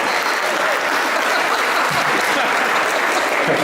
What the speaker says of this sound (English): I think we should all give Chuck a round of applause because he bought that suit for the occasion